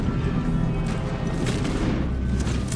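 Gunfire in the Red Dead Redemption video game during a train robbery, heavy booming reports blending into a dense, continuous rumble of shots and explosions, loud and close with no voices.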